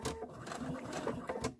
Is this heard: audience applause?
no